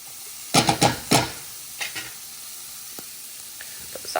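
Sausage sizzles in a HexClad pan for a breakfast casserole, a few loud bursts of hiss and spatter as it goes back in, then quieter crackles and small utensil clicks.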